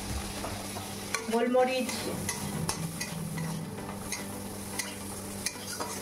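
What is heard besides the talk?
frying onion, garlic and green chilli in a pan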